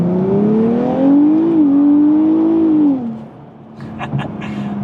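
A 2023 Nissan Z Performance accelerates hard while drifting, its engine note rising and holding as a loud, close drone before dropping away to a lower idle-like hum with a few brief sharper sounds near the end.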